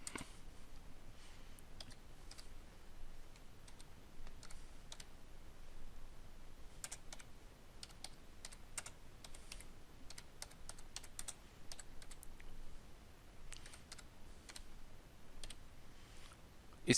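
Typing on a computer keyboard: quiet, irregular bursts of light key clicks, sometimes scattered and sometimes in quick runs, close and soft against a near-silent background.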